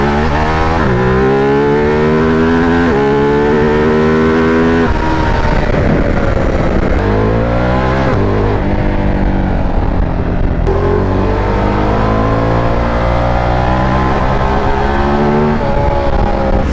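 A Ducati Multistrada 950S motorcycle accelerates in repeated spurts through traffic, its engine note rising in loud, close revving sweeps that drop back between bursts, a steady drone filling the gaps.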